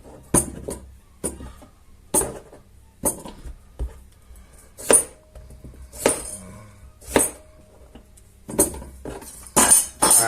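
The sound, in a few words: sliced chorizo and boiled eggs being put into a pot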